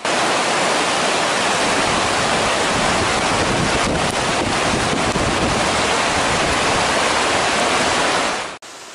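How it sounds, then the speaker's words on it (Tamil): A steady, roaring rush of falling water fills the whole clip, loud and continuous, then cuts off abruptly at the end. "ஆர் பறிக்கும் அருவிகள் வயிறு தொங்கலாய் விழுகின்றன"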